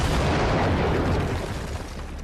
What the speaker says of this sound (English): The cannon blasts with unbelievable power.